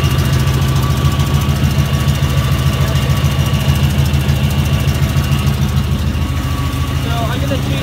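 A truck engine idles with a steady low rumble and faint rhythmic knocking, loud and close throughout, with a little mechanical whine near the end.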